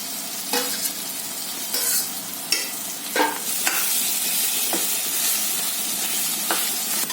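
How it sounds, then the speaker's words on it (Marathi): Mashed eggplant with onion and tomato for a spicy red-chili bharit is stirred in a frying pan, giving a steady close sizzle broken by several sharp scraping strokes at irregular intervals, with no voices. "वांगी बारीक करून घेतलं ते वांगे असं घालून घेतले आहे"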